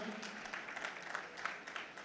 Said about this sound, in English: A round of applause for Mr. Emmanuel.